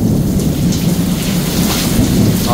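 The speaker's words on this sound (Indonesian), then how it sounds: "hujan di Kota Mekah nih" Heavy rain pours down steadily in Mecca with a dense roar, thunder rumbling low underneath throughout; loud and close, no voices.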